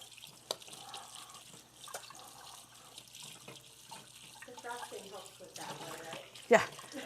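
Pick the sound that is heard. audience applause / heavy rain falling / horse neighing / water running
water running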